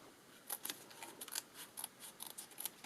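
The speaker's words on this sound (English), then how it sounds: "Grab our scissors." Quiet, rapid snipping of scissors, a string of crisp little cuts at an uneven pace, close by with no voices.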